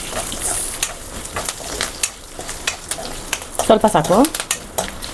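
Tempering in hot oil in a pan with dried red chillies, green chillies, curry leaves, cashews and ginger, a steady crackling sizzle with spatula scrapes and a brief spoken phrase over it.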